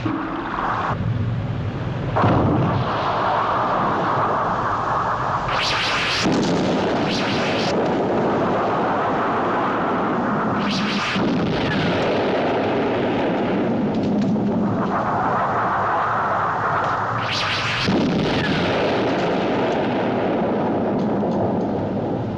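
Missile explosions in a TV drama, heavy booming blasts that repeat every few seconds over a steady low rumble, loud and close.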